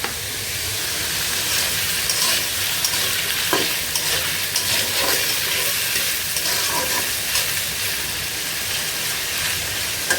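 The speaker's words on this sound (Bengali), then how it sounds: "যেহেতু মাছটাও ফ্রাই করছি তো আলুটাও ভিজতেছি" Fish and new potatoes fry together in a pan with a steady, loud sizzle and crackle, with faint stirring scrapes and no talking.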